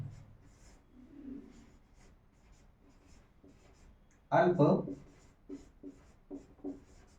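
Pen strokes on paper during a Hindi grammar lesson, a faint, intermittent scratching, with one louder burst midway and short voice fragments near the end.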